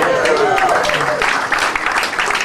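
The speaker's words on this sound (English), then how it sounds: "Round of applause." A comedy club audience at Catch A Rising Star in Princeton breaks into a round of applause, a dense, steady wash of many hands clapping with a voice faintly over the start.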